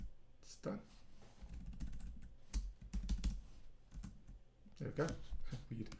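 Computer keyboard typing comes through as a quick, irregular clatter of soft key clicks, with bursts of faster keystrokes, heard close up.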